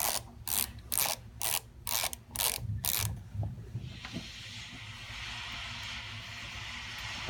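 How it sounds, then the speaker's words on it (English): A torque wrench and an Allen wrench start two set screws on a pulley from a CF-120 diesel pump, giving a rapid run of close, loud ratcheting clicks in regular bursts, then a quieter steady hiss. "We put the torque wrench and the Allen wrench and we start the 2 set screws."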